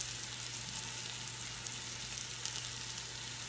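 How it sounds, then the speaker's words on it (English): Beef chunks searing with rosemary in an Instant Pot give a steady, even sizzle with faint crackles throughout, fairly quiet and with no voices. "let's sear it with some rosemary today."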